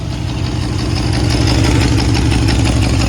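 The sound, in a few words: Mercedes W126 560SEL engine starting and idling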